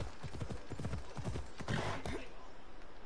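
Rapid clip-clopping horse hooves patter quickly and fairly close, followed by a brief whinny, all fairly quiet against a soft steady hiss, in a video game.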